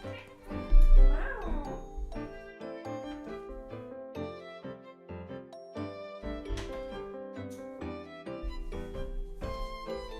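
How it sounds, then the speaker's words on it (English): A house cat meows insistently at a closed door indoors, a long run of loud, drawn-out meows and wails repeating close by with little pause. "my cat took initiative and meowed at us for so long that I now opened the door"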